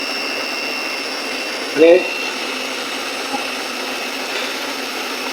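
A homemade kerosene turbojet engine runs above 20,000 RPM with a steady, high whining roar that holds level throughout. Someone speaks briefly over it.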